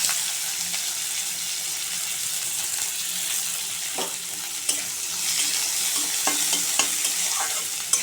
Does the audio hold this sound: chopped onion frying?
yes